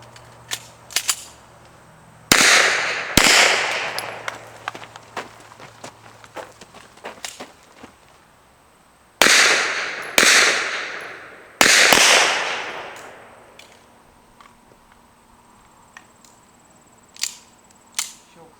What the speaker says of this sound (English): this one we're going to do a Tac-Reload on our way up to the 2nd position